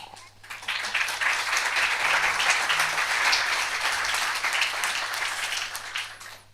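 Audience applauding after a recited Louis Aragon poem at a televised French debate, a loud sustained burst of clapping that swells quickly and fades at the end, with no talking over it.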